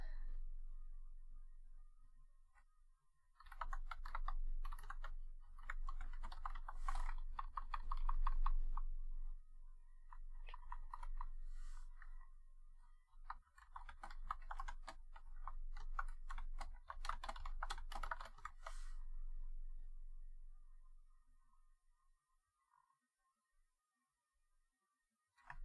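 Rapid computer keyboard typing comes in two long bursts of irregular clicks and clacks, close and fairly loud, separated by a short pause and trailing off into quiet at the end, with no talking.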